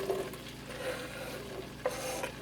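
Onions stir and sizzle softly in two tablespoons of melted butter in a pan for keto cream of mushroom soup, a quiet steady hiss broken by a few light scrapes of a utensil.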